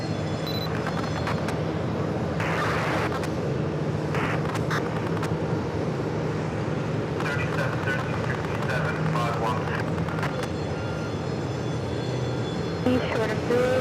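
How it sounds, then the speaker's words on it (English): An ITA Airways A330neo airliner arriving at JFK from Rome gives a steady, loud jet roar that holds evenly throughout, with occasional higher hiss and clatter from the airport surroundings. "This is ITA A330 Neo coming in from Rome"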